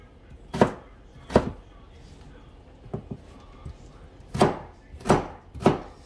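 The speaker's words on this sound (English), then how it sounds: "now I'm just going to go ahead and slice it into tiny cubes" A knife cuts a peeled golden beet into small cubes on a board. There are sharp, close chops in uneven bursts, two early, a few light taps, then three more, with a voice faint in the background.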